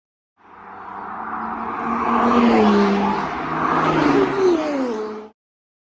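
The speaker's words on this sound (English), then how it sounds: "Okay, so we've seen a variety of cars come past here now." Gumball 3000 rally cars sweep past on a UK road, rising from quiet to a loud roaring pass with whooshing air and a rising then falling engine pitch, a second engine note trailing before fading abruptly.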